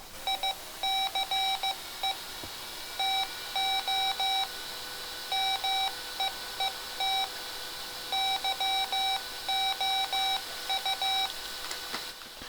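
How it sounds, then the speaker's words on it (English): Short electronic beeps from a Mr. Rags macro keyer used for ham radio Morse sending, sounding in clipped rhythmic bursts of tone at fairly even spacing over a faint background hum. "I queue up sending a macro with 2 beeps"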